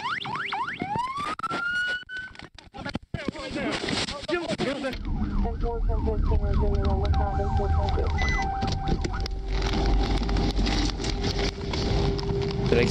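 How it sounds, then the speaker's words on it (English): Wailing sirens rise and fall continuously, loud and near, alongside crackling clatter and people talking underneath. "Can't hear over the sirens."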